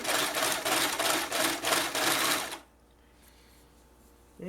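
A sewing machine stitching pinned fabric, a loud rapid mechanical whir in pulsing bursts for a few seconds, then stopping into quiet room tone.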